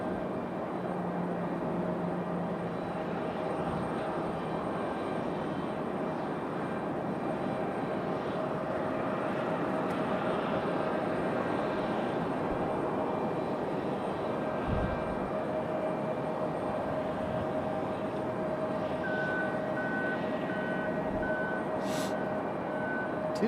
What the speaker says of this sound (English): Two Southwests making their way out for departure.